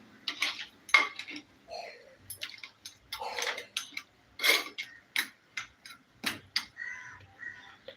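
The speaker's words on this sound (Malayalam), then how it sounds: "ചൂടുവെള്ളം മാത്രം ഒഴിച്ചു കൊടുക്കാം കേട്ടോ അതിന് നമുക്കൊന്ന് ഇളക്കി ഒന്ന് റെഡിയാക്കാം" Crab curry stirred in a clay pot after hot water goes in, a spoon clacking and scraping against the pot in irregular close taps.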